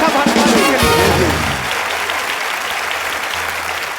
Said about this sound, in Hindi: आप सबकी जोरदार तालियों के बीच में इनवाइट करना चाहूंगा